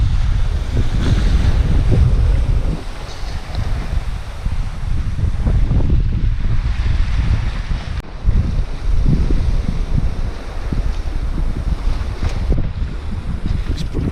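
Strong wind and breaking waves rush around a sailboat off the Alaska Peninsula, a loud, continuous roar with heavy buffeting wind against the microphone and no talking.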